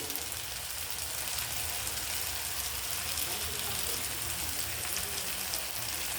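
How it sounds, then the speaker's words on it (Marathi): Turmeric stirred into hot oil for a tempering in a Kokani-style sukat dish, giving a dense, even sizzle and crackle throughout, faint and close, with no talking. "आता आपण हळद ॲड करूयात फोडणीमध्ये."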